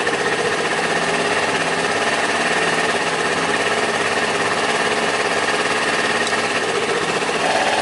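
A carburetted engine idles steadily and loudly close by during idle screw adjustment, with a constant rattling, buzzing drone throughout.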